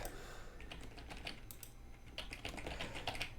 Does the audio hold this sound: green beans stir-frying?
no